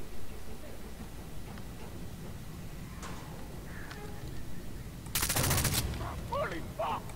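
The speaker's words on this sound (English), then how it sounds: "Or let me just shoot this guy." Gunfire in Far Cry 3 while shooting an enemy: a short loud burst of rapid shots cuts in after quiet game ambience, followed by faint scattered effects.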